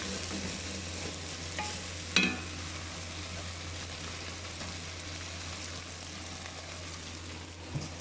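Onions frying in a pan for bhindi masala on a gas flame give a steady, moderate sizzle with a low hum underneath and a couple of sharp clinks of a spoon against the pan.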